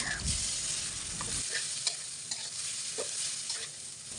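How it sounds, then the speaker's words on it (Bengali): Shrimp with turmeric and chili powder frying in a pan, being stirred: crackling sizzle with scraping strokes, a louder stir at the start and then steady frying with small pops. "এখন দিয়ে দিচ্ছি চিংড়ি মাছ"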